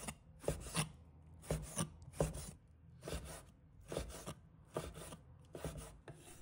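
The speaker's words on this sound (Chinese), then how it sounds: "把它切成小块" A kitchen knife chops pork belly into small pieces on a cutting board, firing off quick bursts of close, crisp chops in a steady repeating rhythm with short pauses between the bursts.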